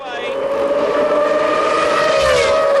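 IndyCar race cars at the Honda Indy 300 drive on track, engines wailing in a loud, sustained high-pitched scream that shifts pitch as they pass close by.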